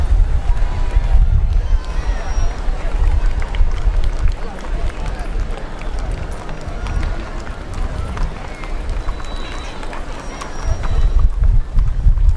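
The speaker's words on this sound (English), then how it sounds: "The group will consist of 8 horses and riders, both male and female." Eight horses with riders clip-clop along a street parade at the Windsor Shad Derby, their hooves thudding steadily under an announcer speaking and crowd noise with scattered clapping.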